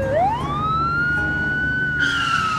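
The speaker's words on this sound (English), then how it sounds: "She turns her siren on so that the other cars will make way for her." A cartoonish ambulance siren swoops upward and holds a steady wailing tone, loud and close, with no talking.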